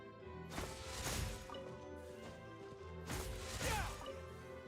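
Pickaxe strikes on rock in Genshin Impact, two sharp crashing impacts about two seconds apart over faint game music, fairly quiet.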